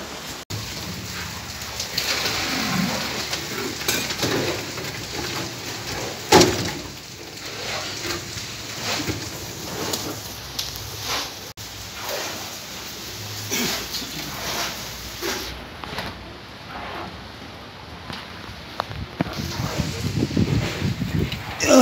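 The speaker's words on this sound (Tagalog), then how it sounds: "Yun, umulan na." Steady rain falls on a construction site, a soft continuous patter with scattered louder drops and brief knocks, fairly faint and close, with occasional distant voices.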